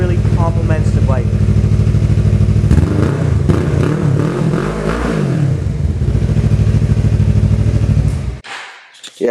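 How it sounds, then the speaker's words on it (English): A 2018 Suzuki GSX250R parallel-twin motorcycle with an aftermarket exhaust, baffle removed, runs loud and close, its throbbing idle rising into a couple of strong revs before cutting off near the end. "the bike sounds really good for a parallel twin"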